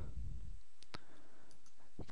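Computer mouse clicks on a desktop during spreadsheet-style software work: a couple of sharp, close clicks and a few fainter ticks over quiet background hiss.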